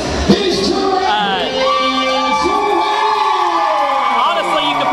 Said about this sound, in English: you can probably barely hear me over the crowd